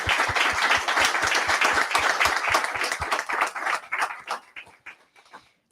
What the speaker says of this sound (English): let's give a cheer for our panelists